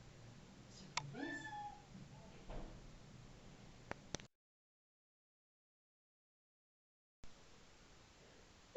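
A house cat lets out one short rising meow near the start, followed by faint clicks, in a quiet indoor room where a few soft sounds come before a stretch of silence.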